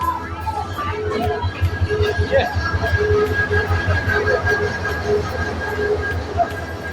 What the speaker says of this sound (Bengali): এই পাশে ট্রেন চলে আসছে রংপুর স্টেশন।